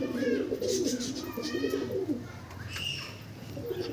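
Andhra pigeons cooing in a flock, low throaty coos rolling continuously and fairly close, with faint chirps and background noise around them.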